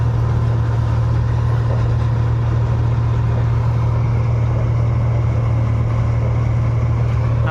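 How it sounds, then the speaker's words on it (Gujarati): A tractor-driven cutter harvests fennel in a village field, its engine droning steadily and loudly throughout with a broad rumbling hum and no voices. "આપણે વાડીએ જો કાઢવાનું ટ્રેક્ટર લઈને અત્યારે આવ્યા છે."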